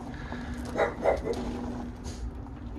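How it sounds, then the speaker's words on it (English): A dog barks outdoors in spring, two or three short barks at moderate distance close together, followed by a quieter yip over a steady low background. "Oh, there's Luna, the killer dog."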